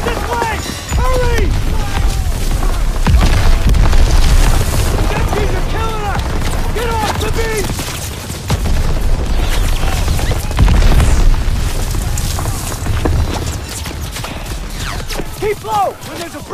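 Call of Duty Warzone combat with heavy gunfire and deep explosion booms rolling continuously, loud and dense, while shouted voices give orders over the din.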